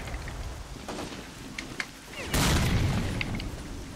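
An RGD grenade goes off in the video game S.T.A.L.K.E.R. Clear Sky, a loud, broad blast that arrives partway in and rumbles on as debris, following a stretch of noisy ambient game sound.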